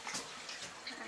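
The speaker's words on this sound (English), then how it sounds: "I usually put the extra hot water in our cups to warm them up" Hot water from a French press coffee session is poured into cups to warm them, a steady close splashing stream that runs unbroken for about a second.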